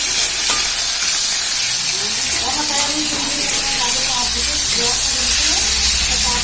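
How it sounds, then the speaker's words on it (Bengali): Meat sizzling in a pan as it is lightly fried for soup, a steady loud hiss with occasional stirring scrapes and faint pops throughout. "মাংস একটু ভেজে নিচ্ছি"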